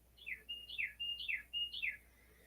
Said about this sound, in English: My bird's chirping out here.